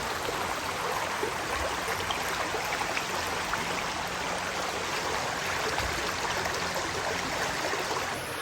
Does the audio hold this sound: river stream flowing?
yes